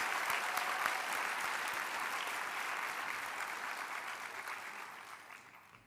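Applause from the audience at a nursing declaration ceremony for new nurses, a crowd clapping steadily at moderate volume before tapering off and dying away near the close.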